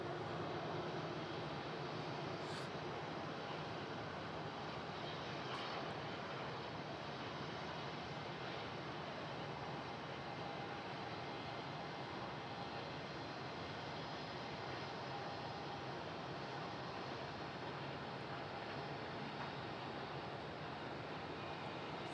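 Jetstar airliner departing Melbourne Airport on a night takeoff bound for Ho Chi Minh City, a distant, faint, steady jet engine roar that holds evenly throughout with no voices.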